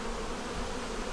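Close, unbroken buzzing of honeybees swarms over a hive frame carrying the yellow-marked queen, brood and eggs, a thick, even drone heard alone.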